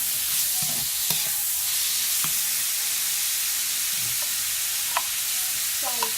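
Glass noodles stir-fried in a hot pan in Vientiane, Laos: a bright, continuous sizzling hiss, broken by occasional scrapes and clacks of the utensil against the pan, close and alone.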